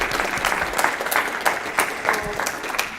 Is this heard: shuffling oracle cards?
no